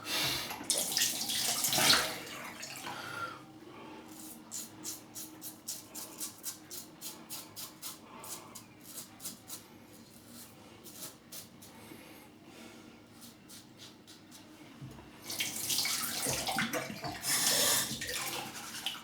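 A tap runs with a steady rushing splash during a wet shave, swelling loudly at the start and again near the end, with softer dripping and trickling in between.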